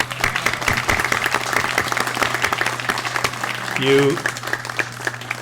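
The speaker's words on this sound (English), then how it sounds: "So let's give a round of applause to Brother David Coretti, Brother Stanislaus" Guests at a First Vows luncheon give a loud, continuous round of applause, close and steady, with a voice briefly rising over it and a low steady hum underneath.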